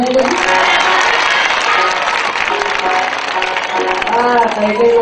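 A village audience claps in a sustained burst of applause, with a voice speaking over it.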